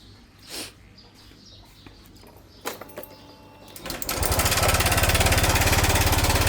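After a few quiet knocks and clicks, an engine with a faulty timing chain tensioner cranks and starts, then runs loudly with a fast, rhythmic ticking rattle under its idle.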